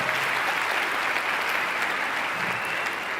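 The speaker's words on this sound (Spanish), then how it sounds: "Un aplauso, por favor." A conference audience claps in a dense, even burst of applause filling the hall, sustained throughout without talk.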